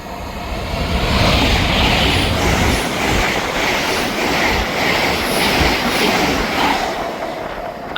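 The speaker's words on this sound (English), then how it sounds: "Passing through now is the 1557 LNER service from London King's Cross to Aberdeen." An LNER service from London King's Cross to Aberdeen, unit 800-105, passes through Monifieth station with a loud, sustained rush of wheels and rhythmic clickety-clack building and fading.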